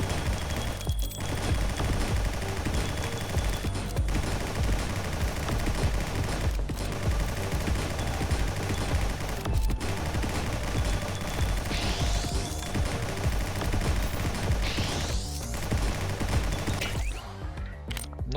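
Rapid rifle gunfire from a video game shooter plays almost without pause, loud and dense, with short gaps and a few sweeping effects before it thins out at the end.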